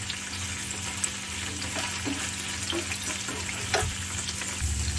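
Thin slices of paneer roasting in a pan over a lowered flame, a steady faint sizzle and crackle with occasional stirring clinks, no talking.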